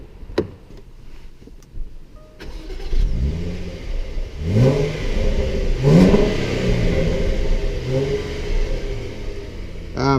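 A 2016 Jaguar F-PACE S 35t cranks and fires up, then revs several times, each rev rising and falling in pitch, before settling into a deep rumbling idle heard from inside the cabin with a few faint clicks early on.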